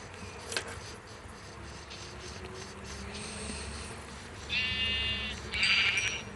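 Sheep in Minecraft give two short bleats near the end, one after the other, over quiet game ambience with soft footsteps and a faint buzzing hum.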